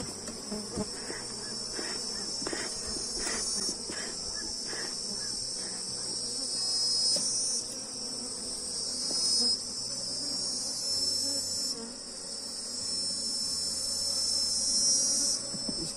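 A strong Apis honeybee swarm hums loudly at a hive box, a thick, continuous buzz with brief individual bees droning past close by, steady throughout with no talk.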